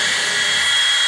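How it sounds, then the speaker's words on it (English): A power drill bores into wood while a door for a staircase is being built, a steady, loud, high-pitched whine held close and unbroken throughout. "Keep that same angle so you don't break the drill bit."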